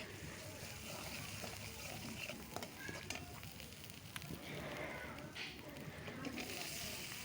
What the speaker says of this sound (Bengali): তো সবগুলো এখন ভালো করে কষিয়ে নিব